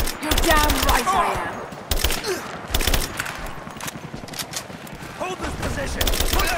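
Repeated gunfire bursts from the video game Rise of the Tomb Raider, sharp broadband shots in irregular volleys among shouting voices and combat noise, loud and close.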